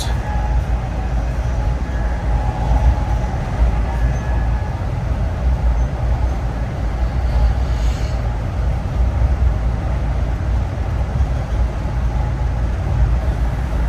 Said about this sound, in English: I was quite surprised with the train speed.